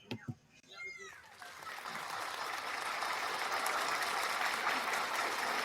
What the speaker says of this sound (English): I just did my little audio effect for clapping